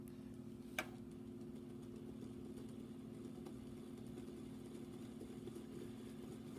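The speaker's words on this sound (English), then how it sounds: "You can see the little reed relay firing every time a magnetic a permanent magnet goes by" A homemade permanent-magnet motor spins steadily with a low continuous hum, its reed relay clicking as each magnet passes, plus one sharp click near the start; no talking.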